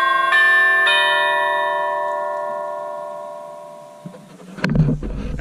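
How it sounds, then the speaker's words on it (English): A Honeywell Series 3 wireless doorbell chime sounds two clear, ringing tones that decay slowly over several seconds, followed by a few soft knocks and shuffles. "I'm gonna go hit the front doorbell, and we'll see if it works from that distance."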